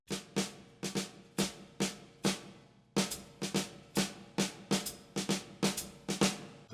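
Jazz drum kit playing a swung pattern of quarter and eighth notes, crisp repeated hits with ringing cymbal wash in an uneven lilting rhythm, close and alone without talk.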